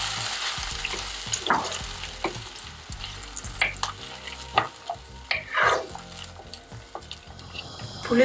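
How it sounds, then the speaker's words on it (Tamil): Tamarind water poured into a hot pan of frying curry leaves, garlic and peanuts, sizzling and crackling steadily at close range with brief louder bursts and stirring, no talk. "புளியை ஊத்துறேன்."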